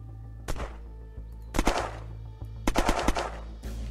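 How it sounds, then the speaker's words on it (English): Gunfire in the video game Unturned: sharp, loud shots in short bursts, one single crack, then a quick double, then a rapid volley of four or five, and a final shot, over a low steady background hum. "he's trying to shoot at us"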